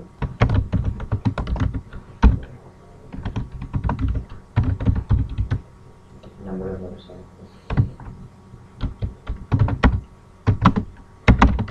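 Keys clatter on a computer keyboard in rapid bursts of typing, broken by a few sharper, heavier Enter strokes and short pauses, close and clear, with a brief murmur of voice midway.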